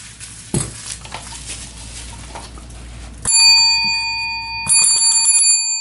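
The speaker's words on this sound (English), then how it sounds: "So now I've got a proper bell that I can use." A boxing bell struck twice, each ring a loud, sharp metallic clang with a long sustained tone that rings out after the strike, following a stretch of low clattering handling noise.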